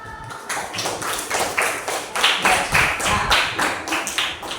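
A classroom of pupils claps hands in a rhythmic, unison beat, about a dozen sharp pulses in steady succession, fairly close and loud.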